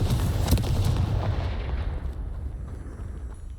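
A Confringo spell blast in Hogwarts Legacy, a deep booming burst that rumbles loudly and then fades away over a few seconds.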